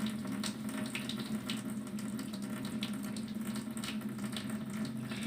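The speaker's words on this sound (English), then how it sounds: "we're going to rinse off our hands by the running water" Tap water runs steadily into a sink while hands are rinsed, a constant rushing splash close by with small flicks of water breaking the flow and no talk.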